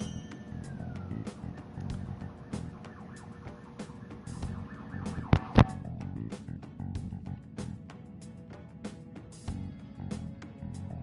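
An emergency vehicle siren passes by outside, a steady wailing tone heard at moderate distance under a low background hum, with a couple of sharp knocks midway and scattered faint clicks throughout.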